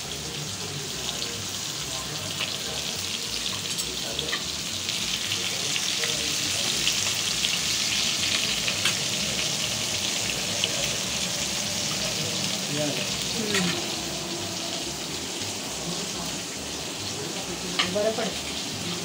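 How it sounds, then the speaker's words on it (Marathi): Halwa fish (pomfret) fries on a hot tava griddle with a loud, continuous hissing sizzle and occasional small pops, close up and steady for the whole stretch. "छान फ्राय होत आहे तव्यावर."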